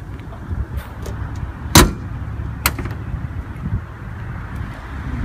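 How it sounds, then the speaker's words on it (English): A Porsche 911 (996) front trunk lid slams shut with one sharp, loud thump, followed by a fainter second knock about a second later, over a low outdoor background rumble. "let me shut the front"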